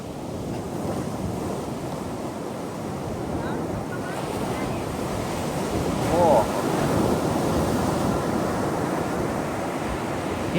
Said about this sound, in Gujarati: હમણાં આ સાઈડ આવી છે એટલે તમને બતાવું અને મોજો આવ્યો છે